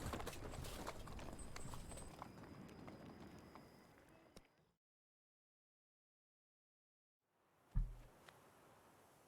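Galloping horse hooves in The Witcher 3 video game pound in a fast rhythm, then cut to silence before a thump and the hoofbeats faintly resume.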